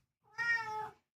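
A domestic cat gives a single short, clear meow close by in a quiet room.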